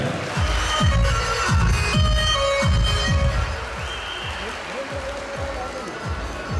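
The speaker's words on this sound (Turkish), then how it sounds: "Kendinizi bir alkışlar mısınız efendim?" An audience at a Turkish commemoration evening in Artvin applauds in a steady wash of clapping, with a hall announcer's voice speaking over it throughout.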